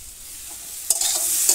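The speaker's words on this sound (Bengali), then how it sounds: "এটা আস্তে আস্তে কষিয়ে নেবো," Mixed vegetables stir-fried in a pan, a soft sizzle that jumps louder as a sharp stir scrapes through partway, then keeps crackling.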